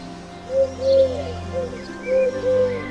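A dove coos in a few soft, rounded phrases, two separate bursts of low cooing with a pause between them, close and fairly quiet against a calm background.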